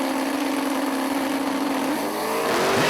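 A loud, roaring turbocharged drag racing engine screams at close range as boost builds, its pitch climbing sharply near the end as the car launches and accelerates away.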